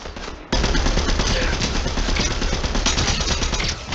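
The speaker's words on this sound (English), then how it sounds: "I am hitting every single shot." Rapid automatic gunfire from the video game Fortnite bursts in loud and close after a brief quieter moment, then keeps rattling in a dense, continuous stream to the end.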